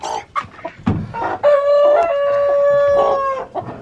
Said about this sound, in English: We need to check on the broody hen and see how she did.